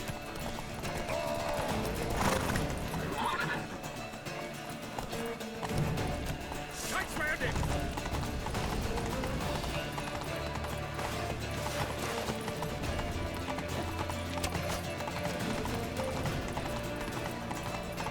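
Hooves clop in a fast, steady galloping rhythm as a horse is ridden in The Witcher 3, with an occasional whinny and game music underneath, while voices shout urgently over the hoofbeats.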